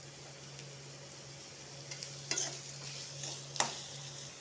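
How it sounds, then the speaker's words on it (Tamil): Onions sautéing in a kadai, a soft steady sizzle with a hum beneath and occasional scraping stirs and clinks, close but fairly quiet. "இந்த கடாயில் வெங்காயம் வதங்கிட்டுருக்கு"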